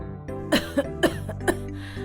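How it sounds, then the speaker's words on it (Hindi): A woman coughs from wood smoke while cooking over a wood fire, several short harsh coughs in a quick uneven burst, close and fairly loud, no talk. "खाना बनाते समय यह लकड़ी बहुत धुआं छोड़ती है, इसीलिए मुझे इतनी खांसी होती है।"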